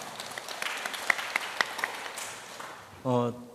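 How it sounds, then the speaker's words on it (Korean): Sparse, fairly quiet applause comes from an audience at a citizens' culture camp for Professor Lim Dong-wook, with a few sharp claps standing out before it dies away and a brief voice is heard at the end. "수고해 주신 우리 임동욱 교수님께 다시 한번 박수 부탁드리겠습니다."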